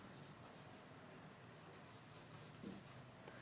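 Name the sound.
writing by hand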